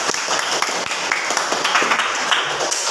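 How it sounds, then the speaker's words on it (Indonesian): A classroom of middle-school students applauding together after being praised by their teacher, a dense, steady wash of many hands clapping close by for a few seconds. "Tepuk tangan semua."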